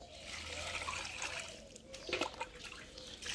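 Water runs and trickles while an aar fish head is rinsed in a Bengali village kitchen, a soft continuous stream broken by a few brief splashes, fairly faint.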